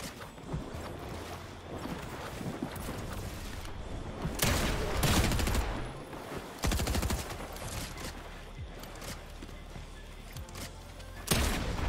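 Bursts of shotgun gunfire in the video game Fortnite land as several sharp, loud blasts over a busy background of game effects. No one speaks.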